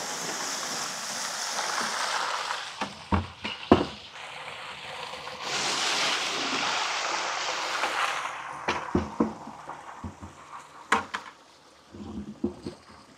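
Water rushing and gurgling through corrugated French drain pipes in an outdoor flow test, a steady splashing wash with intermittent clunks and knocks, moderately loud and close.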